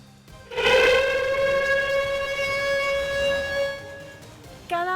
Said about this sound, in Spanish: suenan las sirenas a las 9:53 en punto, en memoria de las 85 personas muertas